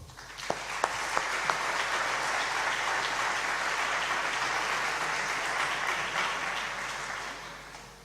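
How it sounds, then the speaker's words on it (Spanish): Sustained audience applause at a Spanish film presentation, a few sharp claps opening into a steady wash of clapping that holds for several seconds before easing off slightly toward the end. "vamos a darles un gran aplauso a los dos"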